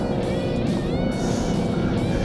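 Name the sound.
Ford Mustang 2.3 engine and synthetic exhaust sound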